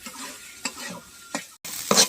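Corn kernels fry and char in a pan, stirred with a few distinct scrapes spread across the clip, and a brief louder sizzle at the end, with no talking.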